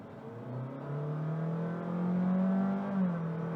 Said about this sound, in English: Whenever you floor it and the engine kicks into life, it's quite annoying and obtrusive